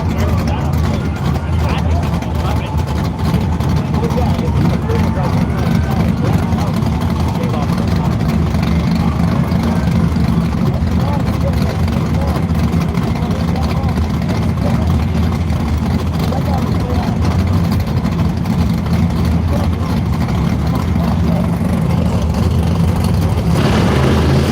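A jet car engine runs at Firebird Raceway with a steady, loud, broadband roar and rumble that holds unbroken and close for the whole stretch.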